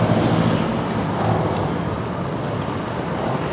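Steady road traffic rumbles nearby, a dense continuous wash of engines and tyres with faint higher sounds passing through, and no one speaking.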